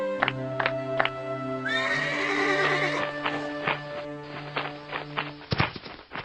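In a cartoon, a magical winged horse whinnies in a long, bright neigh, accompanied by clopping hoof beats and light musical tones, with the hooves growing louder near the end.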